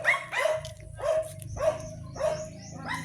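Several dogs barking out on a walk, sharp repeated barks about every half second, close and loud, with fainter whimpering and yips between them.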